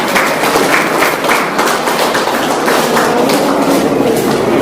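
Students clapping for their teachers at a higher secondary school function, a loud, dense and continuous roar of many hands.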